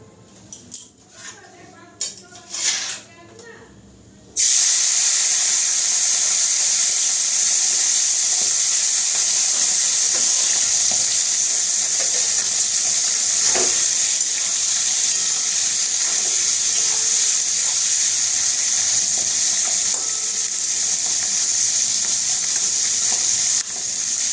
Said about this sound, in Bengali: সরষের তেলটা গরম হয়ে গেছে এরপর আমি মাছগুলো দিয়ে দেবো